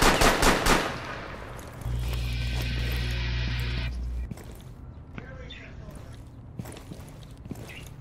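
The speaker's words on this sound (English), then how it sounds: "Watch out, they're shooting back from behind you." Gunfire bursts from a Rainbow Six Siege quick match on the Club House map: a sharp rapid volley at the start, then scattered single shots and impacts, with a steady mechanical hum in between.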